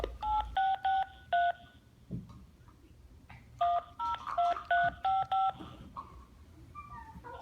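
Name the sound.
telephone keypad dialing tones calling Bell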